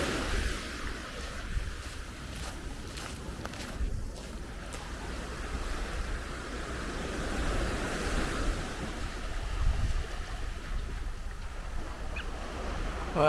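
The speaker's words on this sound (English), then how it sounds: "Well, we made it to the beach." Steady roar of beach surf breaking nearby, mixed with gusting wind buffeting the microphone, continuous and fairly loud with no voices.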